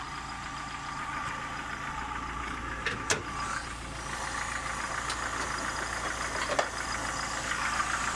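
A 1988 Plymouth Voyager's 2.5-liter four-cylinder throttle-body-injected engine idles steadily, a low continuous hum with faint ticking and a couple of sharp clicks, no talking.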